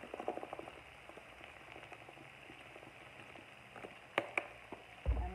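Bacon, cabbage and vegetable stir fry cooking in a pan, a faint, soft bubbling and popping patter with a few louder crackles and a clunk toward the end; no speech.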